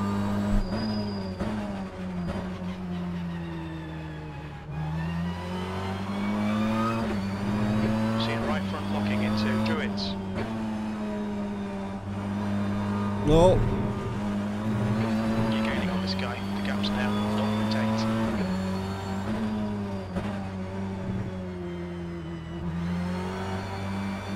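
Simulated BTCC touring car engines race at Brands Hatch in rFactor 2, a continuous loud drone of revving engines with shifting pitch, passing cars and brief tire noise, under a faint voice.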